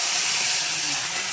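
Onion paste dropped into hot oil makes a loud, continuous, bright hiss that stays even throughout the short moment.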